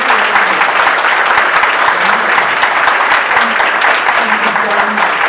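Loud, dense applause from an audience at a speech event honoring young people, steady and sustained throughout with a few faint voices mixed in.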